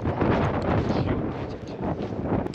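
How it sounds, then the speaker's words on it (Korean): Strong gusting wind on a snowy mountain ridge during a blizzard roars close to the microphone as dense, buffeting rushes. It continues without a break for the whole short moment. "저기 진짜 바람 너무 좋지 않아?"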